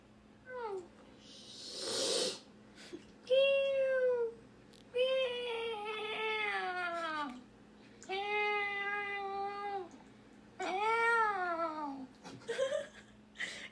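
In a meow competition, a person imitates a cat with a series of drawn-out, pitch-bending meows, loud and close, separated by brief pauses and ending in a shorter call.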